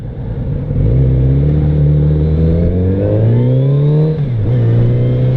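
A Kawasaki Z900RS motorcycle engine revs loud and close, holding a steady droning note that climbs gradually, dips briefly, then rises again; the rumble is continuous with no voices.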